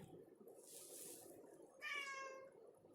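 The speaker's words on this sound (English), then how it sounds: "And my cat has joined us." Domestic cat meowing, one short clear meow near the end after a soft breathy sound, faint and fairly close in a quiet room.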